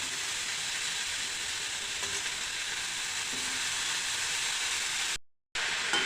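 Steady, loud sizzling of chopped fenugreek leaves frying in a hot wok, a continuous hiss close by with a brief dropout near the end.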